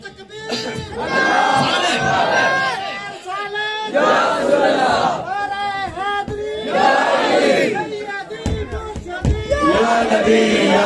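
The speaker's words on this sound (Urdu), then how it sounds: "آؤ پھر ایک نعرہ لگاؤ بلند." A large crowd at a religious gathering shouts a religious slogan in unison, several loud rising chants in a row with brief pauses between, voices massed and close.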